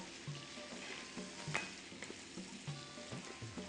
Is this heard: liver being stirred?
yes